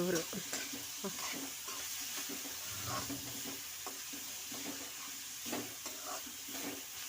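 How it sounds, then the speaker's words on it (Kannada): Bitter gourd roasting in a pan and being stirred, with a steady close sizzle and repeated scraping strokes from the spoon. No one speaks. "ಹಾಗಲಕಾಯಿ ಚೆನ್ನಾಗಿ ನಾವು ರೋಸ್ಟ್ ಮಾಡ್ಕೋಬೇಕು"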